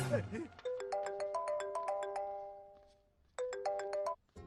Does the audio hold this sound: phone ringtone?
yes